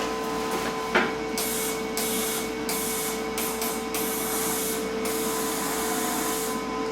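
Steady shielding gas hissing from a Lincoln Power MIG 210 MP welder, a continuous close broadband rush with faint tonal hum beneath and brief dips and small clicks; no voices.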